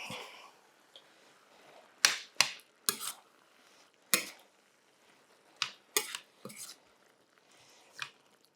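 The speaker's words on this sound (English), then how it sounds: "And we're going to give that a stir." Tomato puree is stirred into 500 grams of bolognese mince in a pan, giving sporadic sharp clinks and scrapes of a utensil against the pan, separated by quiet pauses.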